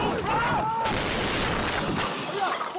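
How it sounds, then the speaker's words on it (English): Royal Marine artillery gunners in Helmand, Afghanistan, fire on an enemy position about 12 miles away, the dense rumbling blasts and crackle filling the clip loudly throughout. "These gunners are firing on an enemy position some 12 miles away."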